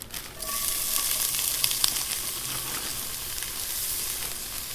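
Frozen Ore-Ida potatoes O'Brien with onions and peppers, about half a bag, sizzle in a hot Dutch oven for a Mountain Man breakfast. The frying is a steady, dense hiss from start to finish, with no voices.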